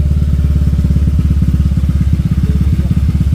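A motorcycle fitted with a quick throttle idles close by in a fast, even putter, with slight rises and dips in engine speed as the grip is twisted.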